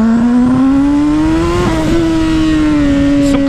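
A turbocharged Honda CB1000 motorcycle engine revs hard and steadily, its pitch climbing and holding with a slight dip midway, loud and close with no talking.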